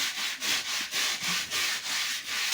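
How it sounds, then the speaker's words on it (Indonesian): A toilet bowl being scrubbed with a brush, steady rhythmic back-and-forth strokes about every quarter second, close and fairly quiet, with no talk. "Oke, disikat-sikat terus aja sampai bersih."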